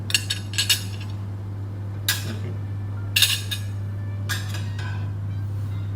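Cutlery being set out on a plate during food and beverage service practice: several sharp metallic clinks in short bursts with pauses between, close and moderately loud over a steady low hum.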